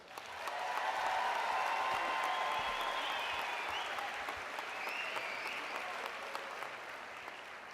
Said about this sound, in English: Please give your graduates a great hand of applause.